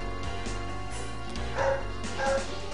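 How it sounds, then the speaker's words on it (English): Dogs in the room yip and bark a couple of times, short bursts rising over steady background game music, moderately near. "Oh my god, dogs."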